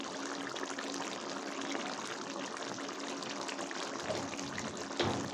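Ghee poured in a small stream over a simmering fish curry of cauliflower and green tomato, a steady close liquid pour and trickle with a brief louder splash near the end, no talking.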